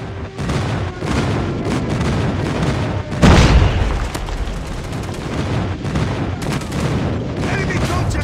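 Airstrike explosions and gunfire in a Call of Duty frontline multiplayer match: a steady dense clatter of shooting with a loud boom near the middle, radio voice callouts heard over the battle.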